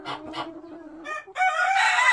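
Backyard hens cluck in two short bursts, followed by a drawn-out crow from a rooster that rises loud and bright at the end, close to the listener with no talk.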